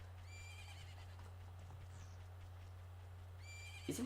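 A horse whinnies twice in the Zelda: Majora's Mask video game, a shrill neigh near the start and another near the end, over a steady low game hum and faint ranch ambience.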